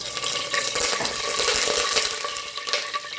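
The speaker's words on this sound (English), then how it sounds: "so I'm going to add a tiny drop of water." A drop of water hits hot oil in a cooking pan for beef stew, setting off a loud, continuous crackling sizzle that persists close-up throughout, with no talk.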